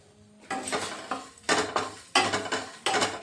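Whole chilli, fennel and cumin dry-roasting in a pan: four bursts of rattling, clinking spoon-on-metal stirring with quiet gaps between, close and fairly soft, with no sizzle of oil.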